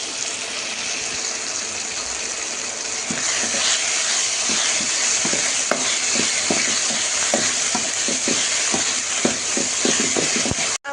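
Tomato, turmeric and chili powder frying in a pan, with a loud, close, continuous sizzle and a run of rhythmic scraping stirs across the middle of the clip.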